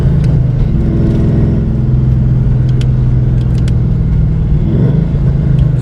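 A car engine held at 4,500 RPM in second gear, a loud steady droning rumble close by that dips briefly near the end, with faint clicks above it.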